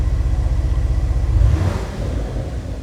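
Lamborghini Urus SE hybrid SUV idling in Corsa mode with its exhaust valves open, a loud, close, steady deep rumble with a brief swell of revs midway.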